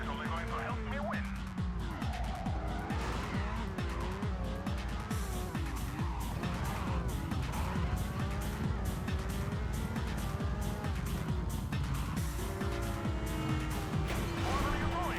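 Midnight Club 2 video game racing, with roaring engines, sweeping pitch changes and squealing tires running continuously, loud throughout, while game voices speak over it.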